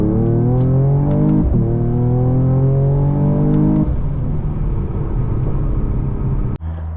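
A 2021 Mercedes-Benz E53 AMG in Sport Plus mode accelerates hard, its engine note rising loudly through a gear change into a steady, close rumble before a sharp cut near the end.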